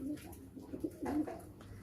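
Pigeons kept by a breeder in a rooftop loft, including a large male, coo in low repeated bursts, fairly close, with faint background noise and no talk.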